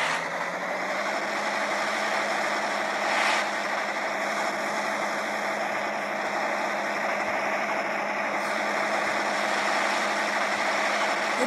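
A tractor engine in a farming simulator video game idles at a constant low rumble, unchanging and continuous throughout, with no voices.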